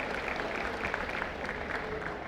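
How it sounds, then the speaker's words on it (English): Brief, steady round of applause from the audience at the opening ceremony of a national skills competition, a dense wash of clapping with no speech. "I would like everyone to give him a big round of applause"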